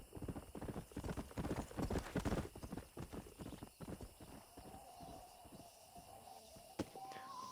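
A stallion's hooves clip-clop steadily at a walk in the Western video game Red Dead Redemption, close and rhythmic, fading slightly toward the end with a faint tonal ring.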